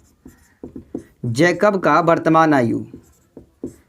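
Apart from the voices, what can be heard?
pen writing on paper during maths solution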